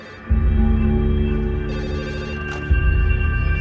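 Telephone in a chemical plant control room ringing after workers report a minor gas leak, a loud, close electronic ring in two steady bursts with a brief dip between.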